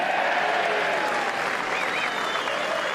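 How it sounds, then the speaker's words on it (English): At the Open Championship at Carnoustie, a golf crowd breaks into loud, sustained applause and whistles for Tommy Fleetwood's closing birdie, a thick continuous roar of clapping with scattered cheers rising over it. "Listen to the applause if he does."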